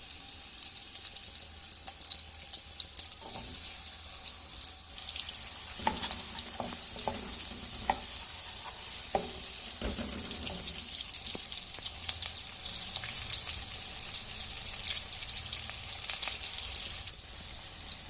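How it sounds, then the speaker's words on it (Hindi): Chopped onions browning and frying in hot oil, with a steady broadband sizzle that runs throughout, plus occasional stirring scrapes and clinks of a utensil against the pan. "अब तेल में प्याज ब्राउन करूँगी।"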